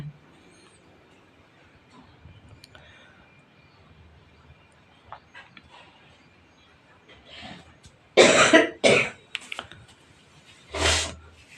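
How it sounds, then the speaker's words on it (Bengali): A person coughs and clears their throat in a quiet home in the early morning, several loud harsh coughs in a cluster near the end after faint background sounds. "মাঝে মাঝে খকর খক করে যাচ্ছে"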